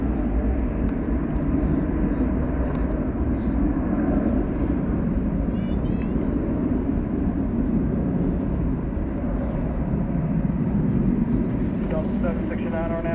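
An American Airlines passenger jet takes off at night from DFW Airport, its engine roar a steady, loud, broadband rumble that runs the whole length without letting up.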